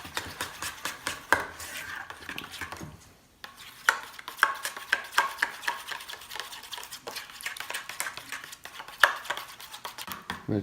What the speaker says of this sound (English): As you mix it, it's going to get more pasty.